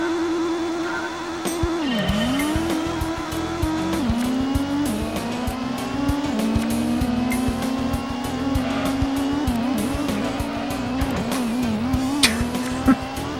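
A race car in Gran Turismo at Grand Valley screams along with a high engine whine that dips and climbs through gear changes and corners, with tire squeal and skidding, loud and continuous, no talking.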